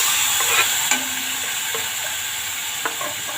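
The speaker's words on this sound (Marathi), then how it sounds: "आता याच्यात टोमॅटो टाकून घेऊ आपण." Tomatoes hit hot oil tempering with asafoetida for toor dal, giving a loud, steady sizzle with a few sharp crackles and light stirring scrapes, no voices.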